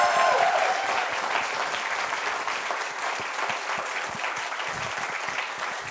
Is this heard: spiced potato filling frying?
no